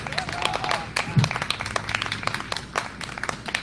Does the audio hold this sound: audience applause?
yes